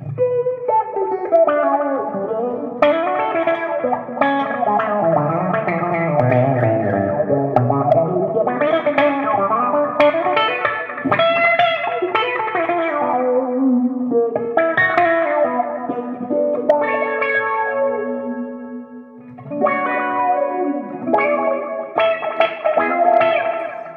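Electric guitar run through an envelope filter pedal, giving a wobbly, quacking effect, playing a funky, continuous line with sweeping vowel-like tone changes, close and loud, no talking.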